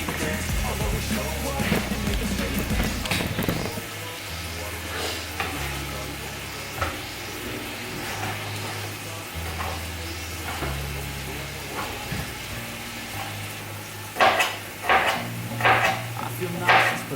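Onions sizzle and fry in a pan at the start of a ground meat dish, with steady crackling, occasional stirring clatter and louder bursts near the end, over low background music.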